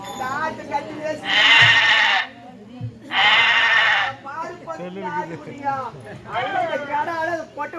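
Goats bleat loudly in long drawn-out calls, two close together and a third later, with people talking in Tamil between and under them at a village drama troupe performance.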